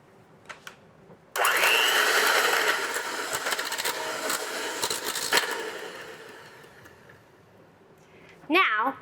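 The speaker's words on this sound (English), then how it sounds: "I'm going to take my hand mixer and mash the potatoes until I've broken apart all of the chunks" A handheld electric mixer whirs steadily through cooked potatoes with milk, butter and protein powder, a loud continuous buzzing grind that starts abruptly, runs for several seconds, then fades before a brief final burst.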